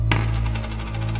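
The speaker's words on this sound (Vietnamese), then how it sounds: "Đó là tiếng đồng xu rớt." A single coin drops once near the start, a short bright clink that fades over a steady low hum, with no voices, as if at night during a spirit-summoning coin game.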